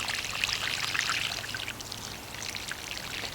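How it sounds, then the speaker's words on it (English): Water pours steadily onto soil around newly planted blackberry canes, a continuous splashing trickle at close range with no voices. "So we'll go ahead and water these two in."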